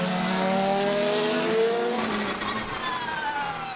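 Toyota and Audi endurance prototype race cars scream past at Silverstone, engine notes rising and then falling away as they pass close by one after another at high speed.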